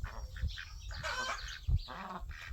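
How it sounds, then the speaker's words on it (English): Hens on a farm squawk and cluck the loud egg-laying song, several ragged, honking calls in quick bursts, fairly close, over outdoor background noise. "That's the sound they make when they're laying eggs, or either right after they laid an egg or during the course of laying an egg."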